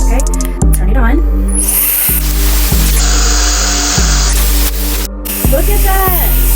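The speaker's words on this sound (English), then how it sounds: "I've heard so much good things about the Mera Classic Hair Dryer and I cannot wait to use it" A Mera Bi-Ionic hair dryer blows loudly close to the microphone, a strong steady whoosh with a hum underneath, cut by brief switching clicks and someone speaking over it.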